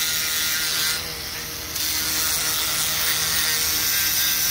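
A Snap-on brushless die grinder running at high speed, a loud, steady high-pitched whine that dips briefly and then resumes, heard close and alone.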